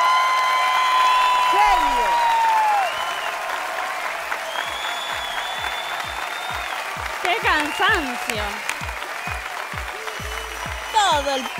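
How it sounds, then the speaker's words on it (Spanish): A talent show audience rises to applaud a zumba dancer's audition on Got Talent Uruguay, loud sustained clapping and cheering mixed with music and whistles throughout. "Todo el público de pie para aplaudirlo a Alejo"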